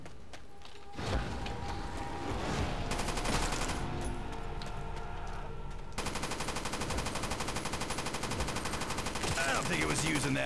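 Rapid automatic gunfire from a Call of Duty: World at War custom zombies map, including an Enfield rifle, rattles in dense, continuous bursts for most of the stretch, close and loud with game effects around it.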